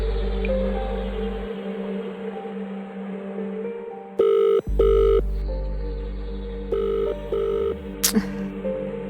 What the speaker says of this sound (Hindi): पता नहीं, उसने फोन नहीं उठाया।